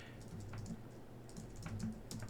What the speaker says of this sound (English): I'm just going to go ahead and type.